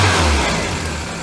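A VW Scirocco MK2 engine idles steadily at about 1200 RPM, a continuous low rumble heard close and alone with no talking.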